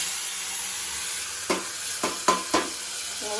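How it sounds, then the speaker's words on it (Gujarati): Onion, tomato and garlic sizzle in hot oil with mustard seeds, cumin, asafoetida and turmeric, a steady frying hiss broken by four quick scraping stirs against the pan, with no talking. "વઘાર કરી લઈએ આ ગ્રેવી"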